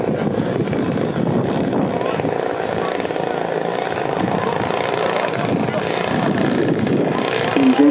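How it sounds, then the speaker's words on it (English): A model aircraft engine on the main flight line at the Popham Model Show gives a steady, loud, rough drone that holds through the whole stretch and swells slightly at the end, with a voice talking over it. "Engine puts on the power."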